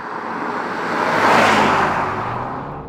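A MINI Countryman Cooper S Shadow Edition with 192 bhp accelerates along twisty country lanes, its steady engine and road rush swelling to a peak midway and then easing off, with no talk over it.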